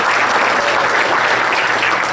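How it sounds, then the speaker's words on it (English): A church audience applauds loudly and steadily during a sermon on freedom from fear, a dense close clapping that fills the whole moment with no voices over it. "Let's give her a round of applause."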